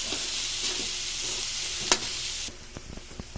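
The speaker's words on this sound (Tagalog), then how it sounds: "tapos haluin na natin guys sitaw na may itlog." String beans with egg frying in a pan give a steady sizzle, broken by one sharp stirring scrape. The hiss then drops away, leaving a few light clicks and taps from the utensil.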